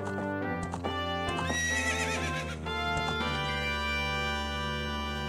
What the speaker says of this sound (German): Und wir haben unser eigenes Pferd.